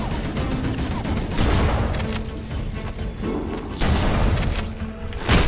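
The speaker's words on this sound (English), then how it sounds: "Oh, these guys are shooting." Enemy gunfire in Halo: Combat Evolved crackles in repeated bursts, with thuds and booms mixed in at fairly close range.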